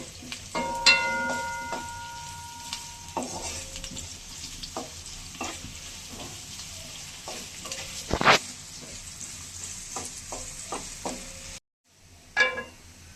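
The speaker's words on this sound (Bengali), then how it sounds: "এখন দিয়ে দিচ্ছি পেঁয়াজ। ভালো করে ভেজে নিব।" Onions fry in cooking oil in a pan for taro with shrimp, a steady close sizzle broken by stirring scrapes and clicks, a sharp loud flare midway, and a sudden quiet near the end.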